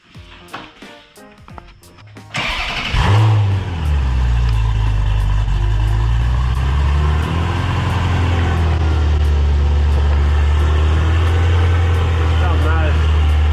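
Supercharged Lotus Exige engine roars loudly and continuously after a sudden start, a deep sustained drone with rising and falling revs, preceded by brief quieter sounds and voices talking over it.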